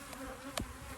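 Honey bees swarm around opened beehives during a hive split, giving a close, steady buzzing with a brief louder pass of one insect near the middle.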